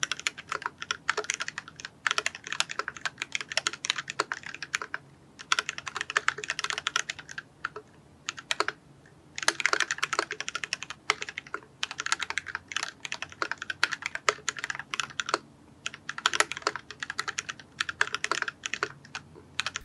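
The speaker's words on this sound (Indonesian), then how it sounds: "berikut adalah suara typing test dari keyboardnya Adi" Continuous mechanical key clatter from a custom 60% mechanical keyboard during a typing test, with steady rhythmic bursts of keystrokes and brief pauses, close and alone with no talk.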